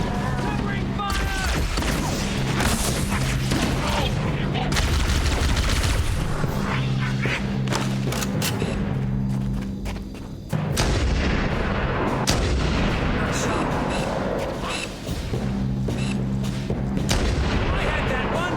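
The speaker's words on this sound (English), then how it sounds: "Covering fire!" Sustained gunfire and booming weapon blasts from a Halo: Combat Evolved battle, with dense rapid shots and explosions layered under game music and occasional voices throughout.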